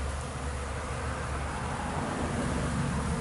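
Honey bees swarm around their hive, a dense steady buzz of many insects filling the air without a break.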